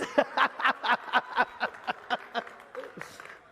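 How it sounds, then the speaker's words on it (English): An audience claps in a loose, rhythmic burst of strong individual claps that gradually thin out and fade, with no talk over it. "I wasn't able to see who was clapping over there"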